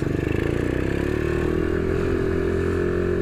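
An Ohvale minibike is ridden on a kart-style track while its tyres are warmed, its small engine buzzing close and loud, pitch climbing smoothly as it accelerates.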